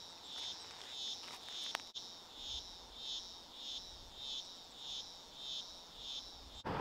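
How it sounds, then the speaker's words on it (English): Cicadas buzz beside a Hunter Valley river in a steady pulsing chorus, rising and falling in regular waves roughly every half second, moderately loud and alone with no voices. "Can you hear those cicadas?"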